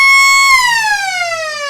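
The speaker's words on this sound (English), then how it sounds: "blows the siren for half-time" Half-time siren at a local Australian football match between Carey Park and Bunbury, a loud steady wail that holds its pitch and then slowly slides downward, alone with no talking.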